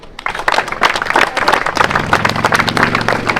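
Dense applause from a crowd at a turbo-kart race, many hands clapping steadily throughout, with a low droning hum rising beneath it in the second half.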